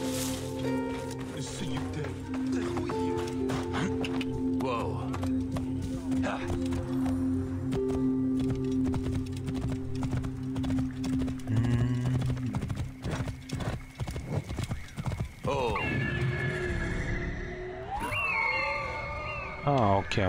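Horse hooves clip-clop steadily through a scene in the Assassin's Creed Origins game, with a horse whinnying and game music and ambience running underneath; no one talks.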